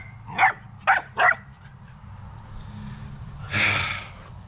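A dog gives three quick yips or barks close by, then after a pause lets out a breathy whimper or sigh, heard indoors with no talking.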